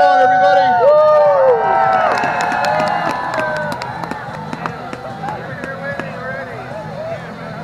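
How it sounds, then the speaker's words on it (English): Crowd at an outdoor outhouse race in Anchorage, Alaska, cheering and shouting during a victory lap, loud whoops and excited children's yells with a voice over the noise, fading a little toward the end. "Cheer them on, everybody!"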